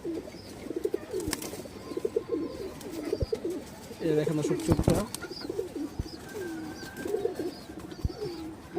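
Many pigeons in a loft keep up a steady, close rhythmic cooing, with scattered wing flaps and clatter, while someone talks over them.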